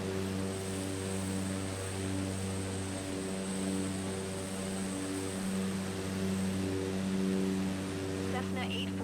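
A Cessna propeller airplane in Microsoft Flight Simulator 2024 drones steadily in cruise, a constant loud engine and propeller hum throughout, with radio chatter talking over it.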